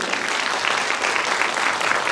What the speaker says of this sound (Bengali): তো তার জন্য একটা জোরে হাততালি।